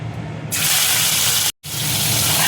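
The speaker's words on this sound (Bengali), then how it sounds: "এবার আমি চিংড়ি মাছটা দেখো তেলের মধ্যে দিয়ে দেবো।" A sudden loud hiss erupts as prawns hit hot mustard oil, breaking off briefly before the fierce sizzling resumes and continues.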